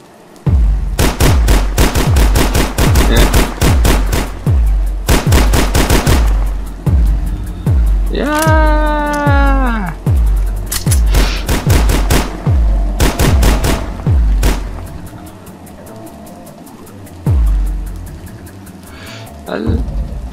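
Video game gunfire from Trashville rings out in rapid loud bursts of repeated shots with gaps between them, with a rising, wavering engine or siren tone in the middle and quieter stretches near the end.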